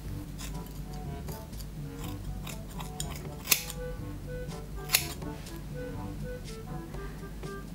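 Scissors cut through a big chunk of hair in a few crisp snips and clicks, with two sharper snaps standing out over a soft, steady background.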